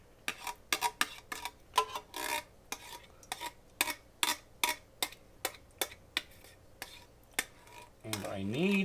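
A utensil scrapes and knocks against a pan while pepper filling is scooped out, giving a quick run of sharp, rhythmic clinks and scrapes close by, followed by a short muffled rumble.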